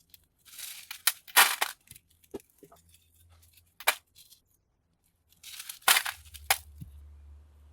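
Copper TV deflection yoke being smashed apart for scrap, with broken copper wires: bursts of crunching, cracking impacts in separate clusters, close and fairly loud, with a faint low hum between hits and no talk.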